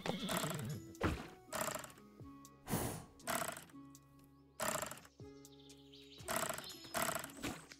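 A horse in the tavern yard of the Tavern Manager Simulator video game, heard as repeated loud snorts and whinnying calls in separate bursts, close and clear over a soft background tone.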